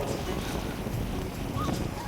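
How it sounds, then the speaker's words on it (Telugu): Wind blows across an open farm field during paddy planting, a steady rushing buffet against the microphone with no pauses. "గాలి వెళ్తుంది ఫ్రెండ్స్ బో అని."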